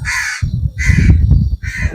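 Several crows caw loudly and close by at an old temple in Deglur, three harsh calls in a row over a busy, rumbling background.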